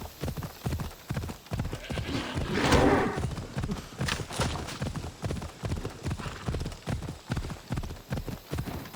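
Horse hooves clip-clop steadily in Assassin's Creed Odyssey, a regular trotting rhythm of close thuds running throughout, with a brief whinny-like swell near the three-second mark.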